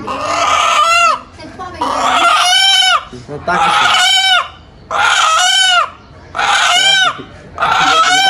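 A rooster clucks loudly and up close in about five long, strained calls, each separated by a brief pause.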